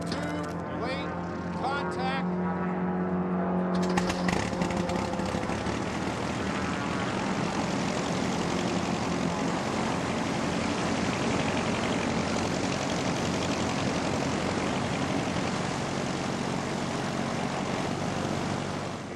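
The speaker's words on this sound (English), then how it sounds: "We hand prop them to start them." Hand-propped propeller airplane engine at a go-fast race, firing up after a few sputtering coughs and then roaring loudly and steadily as it runs up, with voices briefly at the start.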